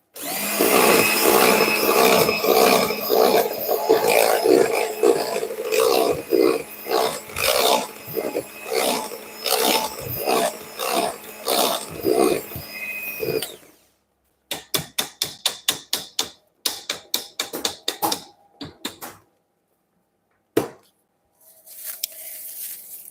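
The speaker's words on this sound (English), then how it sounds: "I give it yet another whisk" A whisk beats batter in a bowl with steady, rapid scraping strokes for several seconds, then settles into sparse, separate taps and clicks against the bowl, close and fairly loud.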